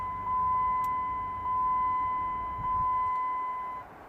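A Jeep Cherokee dashboard chime sounds as the ignition is turned on, three steady, evenly spaced electronic tones, each about a second long, loud and close with no talk.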